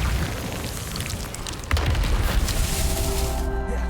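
A spell effect from the Hogwarts Legacy video game: a sustained magical whoosh with a sudden boom-like surge midway, followed by a bright shimmering ring as the effect settles.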